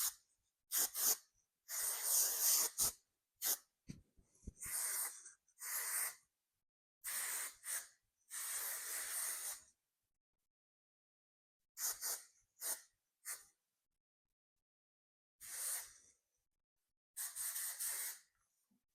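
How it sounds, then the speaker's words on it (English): Several short hissing bursts of hairspray aerosol on freshly curled hair, close and fairly loud, coming in irregular spurts with quiet gaps between them. "I'm just gonna finish it up with some more hairspray"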